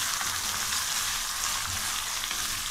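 Garlic and onion frying in a pan for aloo gobhi sabzi, a loud, steady close-up sizzle and crackle of oil that holds throughout with no talking.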